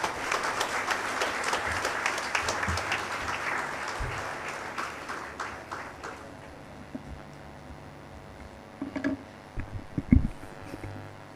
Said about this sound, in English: Let's welcome him with a heartfelt round of applause.